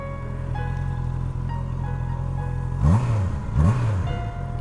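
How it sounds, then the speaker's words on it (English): Four-cylinder Honda CB650R motorcycle with its stock exhaust, idling steadily up close, then blipped twice in quick succession, each rev rising and falling back to a smooth idle. "Classic 4-cylinder sounds, really nice and smooth."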